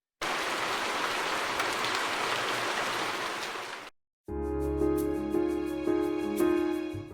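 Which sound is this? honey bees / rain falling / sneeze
rain falling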